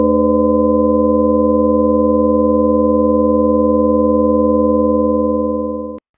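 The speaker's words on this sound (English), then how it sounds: "I can patch in that first stage of amplitude modulation directly. And now the same amount of oscillators, and we'll have a much denser timbre." A synthesizer's oscillators are run through amplitude modulation, producing a loud, steady, buzzy tone with a dense stack of harmonics. It holds for about six seconds, then fades and cuts off.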